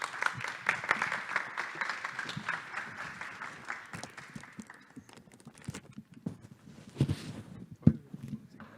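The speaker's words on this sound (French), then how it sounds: "on va pouvoir l'applaudir quand il va monter sur scène." An audience at a startup pitch event applauds as a presenter walks on stage, a dense patter of clapping that gradually thins out and fades into scattered claps and footsteps.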